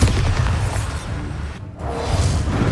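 A Bombarda explosion spell in the video game Hogwarts Legacy, a loud, close, booming blast with a rushing, rumbling tail that briefly dips and then swells again.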